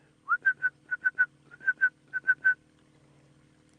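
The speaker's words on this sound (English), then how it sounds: "I've heard a red-crested koran that's been calling quite a while" A red-crested korhaan calls in the bush, a series of about eleven clear, evenly spaced whistled notes rising slightly in pace, heard alone over a faint low hum.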